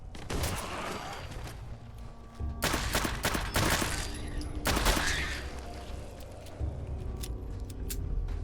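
Several bursts of gunfire in Fallout 4, sharp clustered shots in bright volleys separated by short gaps, moderately loud over a low rumbling background.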